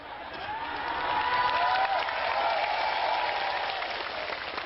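An audience applauds at an Islamic sermon, the clapping swelling to a loud, dense roar with a few faint cheers before easing slightly, and no speech over it.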